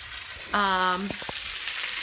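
Chicken pieces browning in a hot cast iron pan for chicken Marsala, a steady close sizzle with a brief harmonic tone near the start and a few sharp knocks partway through, no talking.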